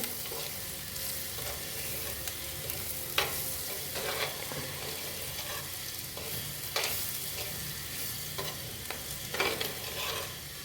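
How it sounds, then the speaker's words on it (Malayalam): Grated coconut stirred into a pigeon pea stir-fry in a pan, a steady soft sizzle of frying beneath scattered scraping and clinking spoon strokes, close and continuous, with no speech. "കുറച്ച് തേങ്ങ ഞാൻ ചിരകി വെച്ചിട്ടുണ്ടായിരുന്നു അതിട്ട് കൊടുക്കാം നമുക്ക് ഇളക്കി കൊടുക്കാം"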